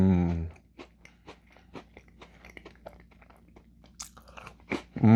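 Someone bites and chews Elf Fudge Stripes Butterbeer cookies close to the mic, giving a run of sharp crunches followed by steady chewing. A voice murmurs briefly at the start and again at the end.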